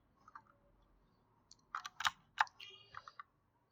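A few sharp computer mouse clicks, close and fairly quiet, come in a quick uneven cluster after a short pause, with no talking.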